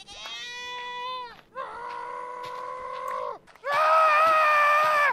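A goat screams in three long, loud, wavering bleats in a row, each strained and human-like, with brief pauses between them and no talk over them.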